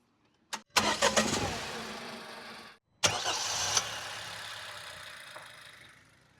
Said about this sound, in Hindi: अब आपने स्टार्टिंग साउंड देख ली होगी